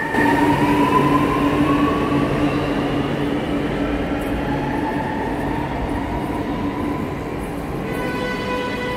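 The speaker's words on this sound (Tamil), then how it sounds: "சென்னை மெட்ரோவின் ப்ளூ லைனில் உள்ள மெட்ரோ ரயில் நிலையம் இது" A metro train rumbles steadily through a Chennai Metro Blue Line station, with rising electric motor whine and rail noise filling the space, no voices.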